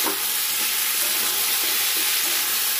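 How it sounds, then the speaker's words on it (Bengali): Winter vegetables for khichuri, such as cauliflower, eggplant, pumpkin and carrot, fry in a pan with a steady, loud, close hissing sizzle that runs continuously. "এরকম ডালের সবজিগুলো ভাজা করছি,"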